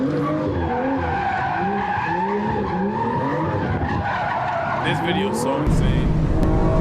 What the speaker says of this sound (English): Drifting around an officer is by far one of the most insane things anybody could do.